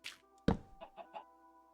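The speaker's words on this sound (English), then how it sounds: "There's chicken in there?" Minecraft chickens cluck in the video game: a short burst of several soft clucks close by, with a dull thunk among them and no voices.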